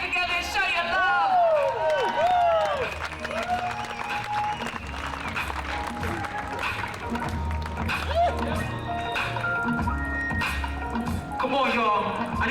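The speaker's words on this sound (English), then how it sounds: "Put your hands together and show your love." An audience applauds as a performer comes up on stage, a steady wash of clapping and crowd noise that goes on the whole time, with someone talking loudly over it and some squealing, sliding sounds coming through.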